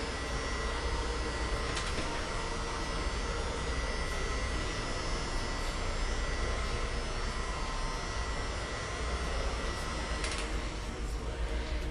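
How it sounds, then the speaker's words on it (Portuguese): Steady, loud broadband blowing with a constant hum from a hot air dryer or heat gun drying a metallic patina craft piece, running continuously without pause. "Sempre que utilizar o secador ou o soprador, o ar quente"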